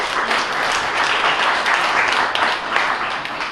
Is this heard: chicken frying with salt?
no